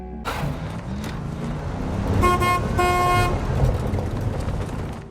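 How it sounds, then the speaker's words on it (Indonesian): A car horn honks in two sustained blasts over rumbling traffic and engine noise, loud and close, in a monster film. "dengan berulang kali membunyikan klakson"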